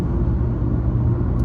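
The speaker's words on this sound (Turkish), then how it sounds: "130 civarında rüzgar sesi iyice içeriye doluyor." Steady, loud rumbling roar inside a Ford Focus 1.5 TDCi diesel at about 130 km/h, with wind noise and low road drone filling the cabin continuously.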